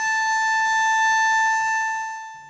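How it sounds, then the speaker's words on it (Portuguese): A memorial siren sounds at 2:30 in the morning in Rio Grande do Sul, marking the hour a deadly fire began. It is one loud, steady tone held for about two seconds, then fading away. "o som da sirene marca a hora que o fogo teria começado"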